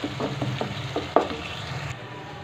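Onions and tomatoes frying in a pan while being softened for an aloo methi bhaji, a steady close sizzle broken by several scraping stirs, then quieting at the end.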